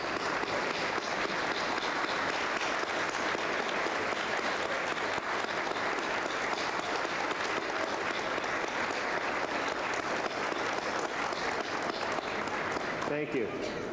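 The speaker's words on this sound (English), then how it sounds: "let's give a round of applause to all those that have helped you" Sustained applause from a large crowd at a community college convocation in Bridgewater, honouring those who helped the graduates, with dense, even clapping that continues throughout and falls away only at the very end.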